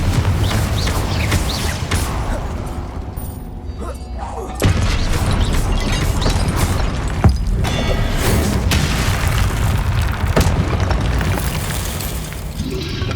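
The Confringo explosion spell fires amid continuous loud booming blasts and rumbling effects in the video game Hogwarts Legacy, with dense layered impacts throughout and no speech.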